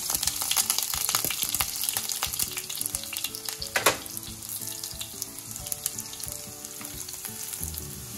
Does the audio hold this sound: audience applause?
no